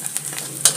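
Onion and garlic sizzling in a wok, a close, steady frying hiss broken by a few short stirring scrapes, one sharper near the end.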